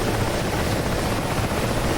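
A helicopter in a combat video game, a steady close rotor thrum with dense chopping noise filling the whole short stretch, alone without talk.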